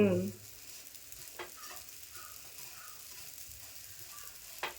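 Ragi ladoo mixture with milk is dry-roasted and stirred in a pan. After a brief loud scrape at the start, a faint, quiet sizzle runs on, broken by a couple of soft scraping stirs, and no one speaks.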